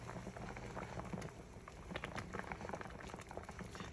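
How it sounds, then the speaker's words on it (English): Water in a pot boils hard on high heat with a dense, continuous bubbling and crackling, steady and close, with no one talking. "So I got them boiling on high"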